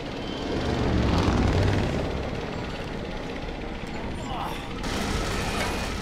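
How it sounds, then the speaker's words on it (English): A helicopter battle in the video game Dead Rising 2: Off the Record brings a loud, continuous roar of rotor and engine noise that swells and eases over several seconds, mixed with other game sounds. "we're fighting a helicopter"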